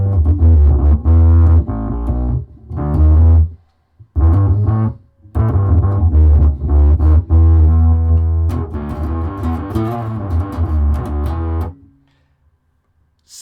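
Heavily distorted bass guitar through an MXR bass distortion pedal with diode clipping plays loud, fuzzy notes and chords in several phrases with brief pauses, ending with a fade to silence.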